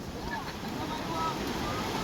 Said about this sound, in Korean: 대형 파도 오는 쓰나미 쓰나미 진짜 커